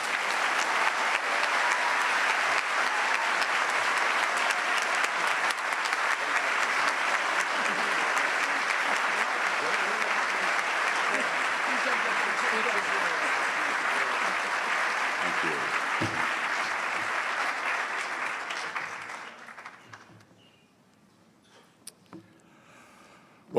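An audience claps for a class day speaker, Ash Carter, with dense sustained applause that fills most of the stretch, then fades out quickly into near silence with a few faint clicks.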